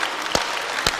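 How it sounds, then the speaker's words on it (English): Audience applause after a stage demonstration with tables, a faint steady patter of clapping with two sharper single claps standing out, about one second long. "give yourselves a huge round of applause"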